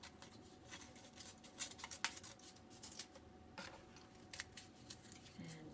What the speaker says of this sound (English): And then at the end, you cut a little strip.